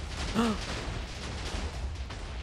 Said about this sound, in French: Oh, c'est vraiment des feux d'artifice.